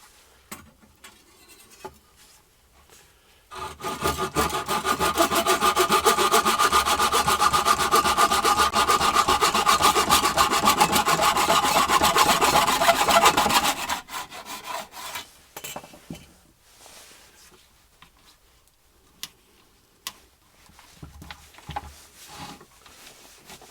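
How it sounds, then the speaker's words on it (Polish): A Japanese hand saw cuts through a strip of wood in fast, even strokes for about ten seconds, loud and near, followed by scattered knocks and handling sounds. "Użyjemy tej piły japońskiej."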